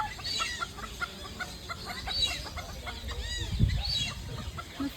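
Chickens at the Al Areen wildlife park cluck in a busy run of short repeated calls, fairly close, with faint background murmur and a soft thump partway through.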